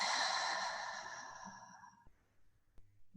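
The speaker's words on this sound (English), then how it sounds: "So maybe in through the nose and out through the mouth." A long, slow breath pushed out through the mouth during a breathwork exercise, a soft airy rush that fades over about two seconds, followed by faint quiet clicks.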